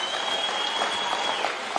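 Stadium crowd at a thanksgiving prayer service applauding, a dense continuous wash of clapping from many hands, fairly loud and even, with no voices on top.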